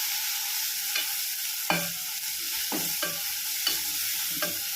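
Chopped vegetables for spicy kuzhi paniyaram are sautéed in a pan, giving a steady close sizzle broken by several firm scrapes and stirring strokes, with no voices.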